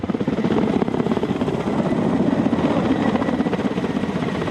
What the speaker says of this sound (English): these helicopters are still in service